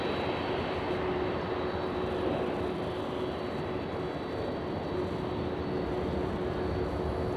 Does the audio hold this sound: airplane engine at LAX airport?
yes